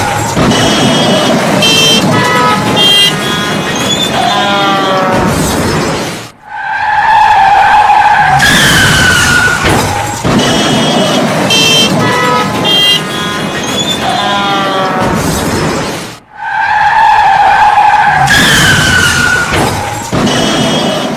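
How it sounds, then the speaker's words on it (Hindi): Cars skid and collide in thick fog on an expressway, with loud, repeated tire squeals, screeching bursts and horn toots over a steady roar of traffic, the same sequence recurring in cycles. "और देखिए किस तरह से गाड़ियां भिड़ रही हैं। ठीक इस तरह से एक टकराती है"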